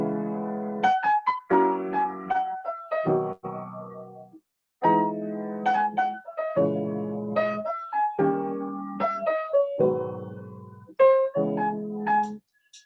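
Solo piano plays a jazz standard melody over basic block chords, a clear, close, moderately loud phrase of single notes above sustained harmony with short pauses between phrases and no voices.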